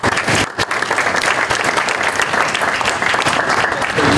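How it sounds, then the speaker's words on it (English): An audience claps loudly and steadily after a speaker is introduced at a business innovation hub milestone event, with one brief dip in the dense clapping before it carries on strongly. "You really should hold your applause"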